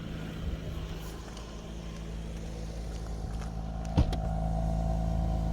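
A Lexus IS200 idling, heard from behind at the exhaust: a steady low, even rumble with one brief thump partway through.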